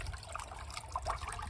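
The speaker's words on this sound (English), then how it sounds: "I've run the pipe down into the gullies that take away the rainwater." Floodwater from a flooded French chateau cellar drains out of a pipe into rainwater gullies, giving a steady, soft trickling and pouring of water that runs on without a break and sits close and quiet.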